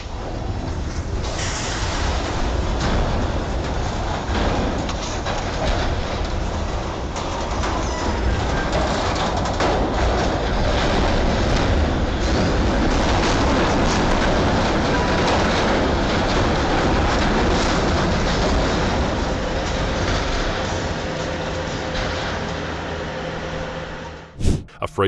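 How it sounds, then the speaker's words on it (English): A loud, continuous rumbling and grinding of a heavy train derailing in Kansas City, with rattling metal throughout, ending in a couple of sharp bangs. "Video of a train derails in Kansas City."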